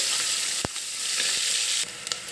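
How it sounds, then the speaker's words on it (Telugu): Onions frying in a pan for a curry, a dense bright hiss of hot oil with a few brief stirring knocks, close and continuous for a couple of seconds. "వేగాక వేసుకోవాలి ఆనియన్స్ ఫైవ్ మినిట్స్ వేగాలి"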